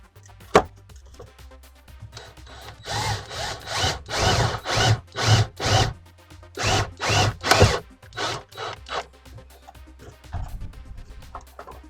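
Power drill driving a self-tapping screw into a Subaru Crosstrek body during a CURT Class 3 trailer hitch install, heard as a run of repeated close whirring bursts with short pauses between them.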